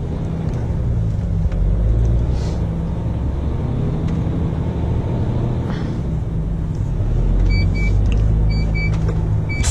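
A car drives along a road with no trailer hitched, giving a steady low engine and road rumble throughout. A few faint clicks and ticks sound inside the cabin.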